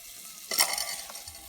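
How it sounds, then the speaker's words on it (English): Margarine oil sizzles briefly in a pan on a campfire grill as it is swirled around, a short burst of hissing frying noise that fades quickly, close and fairly soft. "So I'm gonna use my fire glove and then move the oil around the pan."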